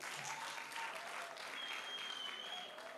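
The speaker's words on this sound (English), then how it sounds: "Let's clap for the team leader." Applause from a university audience at a national newsroom contest, honoring a team leader; steady, dense clapping holds for about three seconds at moderate level with no voices over it.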